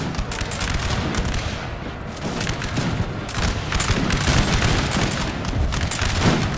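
Massed musket volleys crackle and rumble without a break in a Napoleon: Total War battle, dense and continuous, like many lines firing at once.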